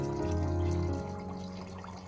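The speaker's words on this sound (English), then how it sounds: "Next, I added 500 milliliters of clean filtered water to the coffee solution container." 500 milliliters of clean filtered water pours steadily into a coffee solution container, a continuous close splashing stream that slowly fades, with no talking.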